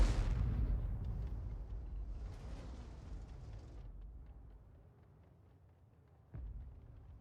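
A tank gun fires in a video game, a deep loud boom at the start that rolls off into a long fading rumble, with a second sharp, more distant report near the end.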